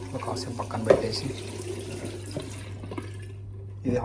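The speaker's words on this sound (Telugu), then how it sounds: "ఇది హాట్ వాటర్ ట్యాప్, ఇది కోల్డ్ వాటర్ ట్యాప్" Water runs steadily from a hot water tap into a sink, a continuous splashing wash with a couple of brief louder knocks and a person speaking faintly in the background.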